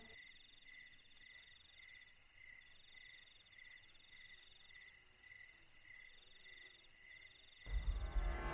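Steady, high-pitched cricket chirping pulses continuously at a moderate level, with a burst of low rumbling noise near the end.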